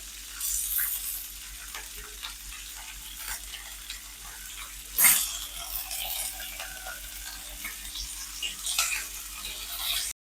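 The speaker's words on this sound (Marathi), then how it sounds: "हलकीशी मिरची आपली थोडी परतून घेतली बघा, असं त्याच्यात कलर बदलला आहे." Pieces of green chilli fry in hot oil with a steady, even sizzle, swelling into one brief louder spatter midway before settling back to a constant crackle, with no voices.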